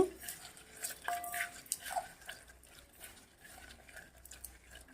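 Garlic-free mash of ingredients squeezed by hand into a pulp, giving soft wet squelches and light clinks against a bowl, close and fairly quiet.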